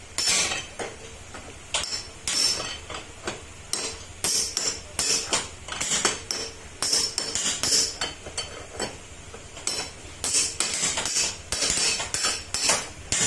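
A punch is hammered repeatedly to drive out a bearing race on a Honda PCX160 scooter, sharp ringing metallic strikes in an irregular steady rhythm, loud and close.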